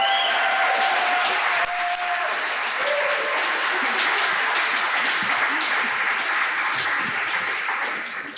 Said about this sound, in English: So a huge round of applause for Mr. Aisling Murray.